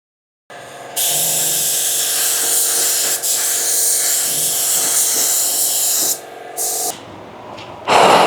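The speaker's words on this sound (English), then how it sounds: "You don't want to be timid when you're laying out your clear coat." Spray gun laying down clear coat on a car, a loud steady hiss of atomized paint running in long continuous passes with brief pauses between them, close to the nozzle and without talk.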